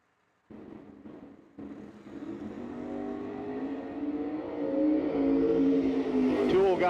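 A drag race car launching at a no-delay drag race, engine roaring and climbing in pitch as it accelerates, loud and sustained after a few sharp opening bursts, with an announcer talking over it.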